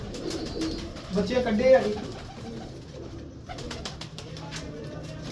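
Breeding pigeons on a rooftop loft coo in low, throaty bursts, close by, while someone talks over them.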